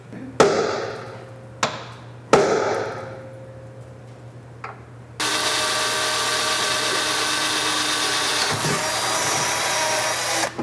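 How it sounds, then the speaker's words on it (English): A few sharp knocks and clicks, then a power drill whirs continuously at close range for several seconds, drilling a hole in a pickup truck for an AMP Research BedStep2 rivet nut. "we're going to be drilling out that location"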